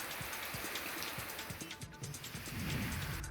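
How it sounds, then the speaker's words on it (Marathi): Steady drizzle in Sindhudurg district makes a continuous soft hiss, with scattered heavier drops tapping nearby surfaces throughout. "सिंधुदुर्ग जिल्ह्यात सकाळपासून पावसाची रिपरिप सुरू आहे"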